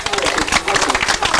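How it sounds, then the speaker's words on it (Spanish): Crowd applause at an outdoor rally on the central avenue of Chaquitambo: a dense, steady wash of many hands clapping, fairly loud and continuous, with voices mixed faintly into the noise. "¡Fuerte aplauso!"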